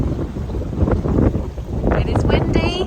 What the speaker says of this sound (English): It is windy, as you can probably hear